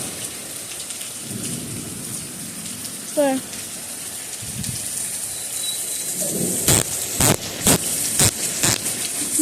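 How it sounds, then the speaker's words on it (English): Steady rain falls outdoors near dark during a big storm, with heavy thunder cracks and rumbles building in the second half; a person speaks briefly over the downpour. "Oh, actually, no, it was raining."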